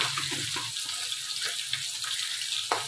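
Water trickling and splashing as it is poured into a ground coriander and cumin spice mix to make a paste, a faint steady wet hiss with small spattery bursts.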